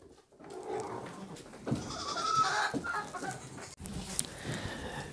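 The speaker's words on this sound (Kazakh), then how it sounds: "Мінекей, ешкілер күтіп тұр." Goats bleat and call while waiting to be fed straw, with several short calls close by and some clucking fowl mixed into the noisy farmyard.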